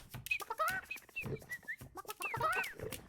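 Cartoonish chickens clucking in the video game Burly Men at Sea, a quick run of short, close, rising bird-like calls with soft thuds underneath, alone without talk.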